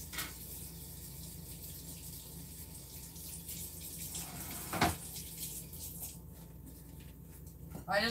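Tap water runs steadily over potatoes being rinsed in a sink, a continuous close hiss with a couple of brief clattering knocks near the middle and at the end.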